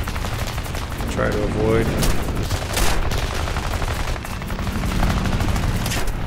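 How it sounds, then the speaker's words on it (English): Aircraft machine gun fire in War Thunder air arcade combat, around a C.R.714 fighter, crackling in dense bursts over a steady engine drone, with someone talking briefly over it. "The fire rate on these things sounds really good. Something just shot at us."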